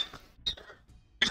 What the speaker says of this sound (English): I have a small little cough.